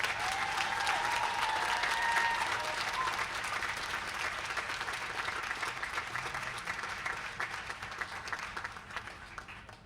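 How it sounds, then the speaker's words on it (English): A large audience at a 2008 graduate commencement ceremony applauds the doctoral graduates, sustained broad clapping that stays full and even across the whole stretch before easing slightly near the end. "Let's have a big round of applause for the doctoral students."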